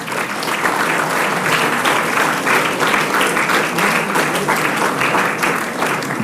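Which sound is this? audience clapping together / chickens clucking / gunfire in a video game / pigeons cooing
audience clapping together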